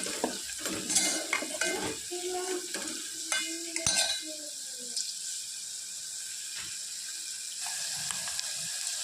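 A tempering for whole green mung beans fries and is stirred in a pan with chilli, a busy burst of sizzling and clattering scrapes at first that settles into a steady, fainter frying hiss.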